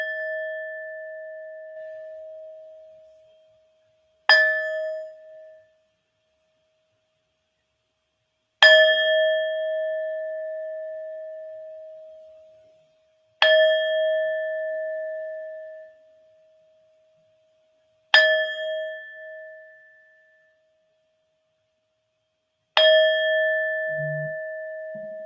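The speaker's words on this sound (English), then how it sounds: "So let's take that first gong." A meditation gong is struck five times at steady intervals of about four and a half seconds, each clear metallic strike ringing out with a long sustained tone that slowly fades before the next.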